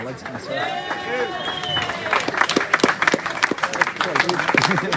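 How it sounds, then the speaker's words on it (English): Crowd clapping at a live outdoor gathering outside a Russian consulate, starting under a speaking voice and swelling into scattered, fairly close claps mixed with chatter. "Round of applause."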